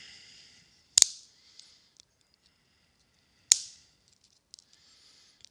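Flush cutters snip excess wire leads on an ATtiny programmer circuit board: two sharp, loud clicks about two and a half seconds apart, each followed by faint small ticks, in an otherwise quiet room.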